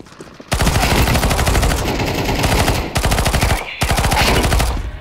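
Rapid automatic gunfire in a Counter-Strike 2 deathmatch on Vertigo or Mirage, loud sustained bursts of shots broken by two short pauses, with no voices.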